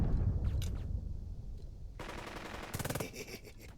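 Machine gun fire in the World War II strategy game Burden of Command: quiet rumble, then sharp rapid bursts of automatic fire with crackling shots, fairly close and loud, no talking.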